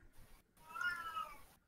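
A cat gives a single clear, drawn-out meow, moderately close and faint, with no talking over it.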